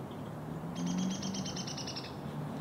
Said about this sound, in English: Love that sound. I love those chickadees.